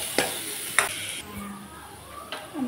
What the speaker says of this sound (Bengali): রসুনটা আমি ভাজা করে নিচ্ছি